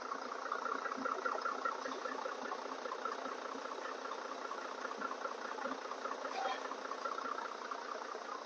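A Fuso truck with a 6M60 diesel engine idles steadily, a constant low rumbling drone with slight irregular knocking texture, moderately distant and unbroken.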